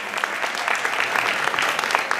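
A room full of people at a holiday Parade of Tables event applauds the organizing committee, a steady, even wash of many hands clapping at moderate volume.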